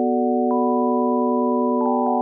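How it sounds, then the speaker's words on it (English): A steady, loud sustained sine-tone layer from a Soundiron marimba Kontakt instrument holds a pure chord, with faint soft clicks as notes shift near the start and end. "Absolutely love the sine layer."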